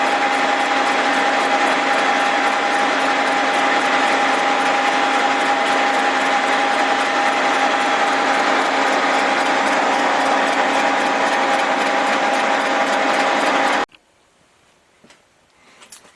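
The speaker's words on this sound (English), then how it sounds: "we made the final pass on the head" A cylinder head resurfacing machine takes its final cut across a Willys L cylinder head, a loud, steady grinding whir with a fine rapid ratcheting texture and a sustained tone that stops abruptly, leaving quiet clatter.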